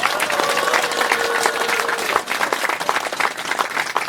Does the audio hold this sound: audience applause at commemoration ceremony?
yes